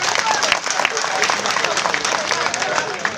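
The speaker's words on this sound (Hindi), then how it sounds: "पहली बार और आखिरी बार मुझे इजाजत के तौर पे ताली बजाइए" Audience applause at a mushaira poetry recital, a dense steady clapping from a crowd that holds evenly for a few seconds, fairly loud and close.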